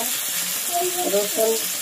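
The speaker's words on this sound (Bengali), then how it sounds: "পেঁয়াজটা ভাজা হয়ে গেছে লাল লাল করে" Chopped onions frying in hot oil until reddish brown, a steady close sizzle with soft stirring scrapes in the pan, continuous and fairly loud.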